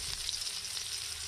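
Garlic and onion sauté in hot oil, giving a steady, close, continuous sizzle and crackle with no voices over it.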